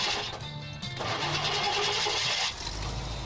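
A 1960 car engine cranks and catches, then settles into a steady, smooth idle close by, with no talking.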